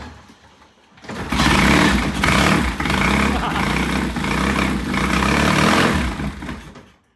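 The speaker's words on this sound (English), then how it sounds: "Kevin's going to kick on it and see how it goes," A vintage British motorcycle is kick-started and its engine catches about a second in, then runs loudly and roughly up close at a steady idle with slight surges before cutting off.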